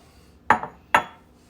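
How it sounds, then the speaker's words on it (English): A utensil clanks twice against a mixing bowl while beaten eggs are worked into brownie batter, two sharp, close clinks about half a second apart with short ringing tails. "Just going to give this a good mix."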